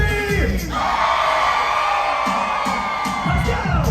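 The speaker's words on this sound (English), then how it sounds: "somebody scream!" A cruise ship party crowd screams and whoops loudly together, a sustained high roar of voices with scattered shouts and beats underneath.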